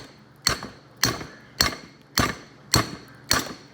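Steel laminations hammered on wood, six loud sharp metallic strikes at an even pace of roughly one every half second, each ringing briefly, close and with no voices.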